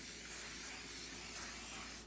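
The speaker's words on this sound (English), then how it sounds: "you're gonna take your spray to grease the pan." Cooking spray hisses steadily onto a 10 by 15 inch jelly roll pan for about two seconds, loud and close, with no voices.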